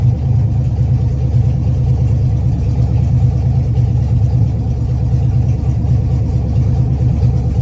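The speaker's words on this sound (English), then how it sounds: "It'll idle about 750 once it gets, usually the Fords go 45 seconds before it'll start getting adaptive on, and idle will come down." A Ford car engine idles steadily just after start-up, a continuous low rumble with an even pulse that holds at the same level throughout, close by and with no talking.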